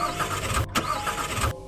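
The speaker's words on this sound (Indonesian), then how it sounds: "Suara dinamo starter terdengar menyedihkan, tapi mesin tidak mau hidup." A car's starter motor cranks in two bursts separated by a brief pause, the engine turning over without catching, close and fairly loud with no talk.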